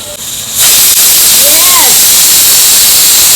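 Steam jets loudly from a pressure cooker in a home kitchen, a harsh continuous hiss that swells in after half a second and holds steady, with a faint voice-like tone briefly audible beneath it.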